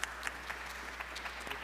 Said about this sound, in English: Can we have a round of applause for the creators?